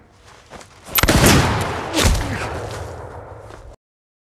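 A sharp pistol report in a John Wick duel scene cracks out about a second in, followed by a second booming shot a moment later, both with long ringing tails that cut to silence.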